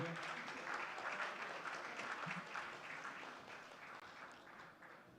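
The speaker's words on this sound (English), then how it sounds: "with a thunderous round of applause, please join me as we welcome to this stage" An audience applauds as the Chief Minister of Tamil Nadu is welcomed onstage at a conference, a dense, sustained clapping from a large hall that fades slightly toward the end.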